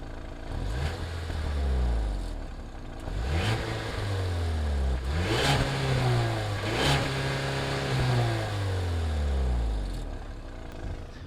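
A Ford Bronco Sport Badlands 4-cylinder turbo engine revs up several times to about 4,000 rpm, each rise and fall sweeping in pitch, with short gear-like drops between pulls; fairly subdued rather than loud.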